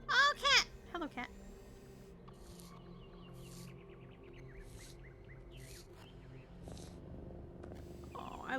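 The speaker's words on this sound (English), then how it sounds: "Oh, I love that they purr after you pet them." Soft, steady purring of a cat in The Talos Principle after being petted, a faint low rumble running for several seconds, opened by a few brief bright chirps and squeaky vocal bursts.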